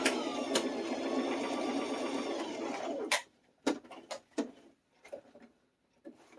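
A sewing machine stitches across the zipper of a pleated clutch, running in a steady close whir for about three seconds, then stops, leaving a few sharp clicks and taps.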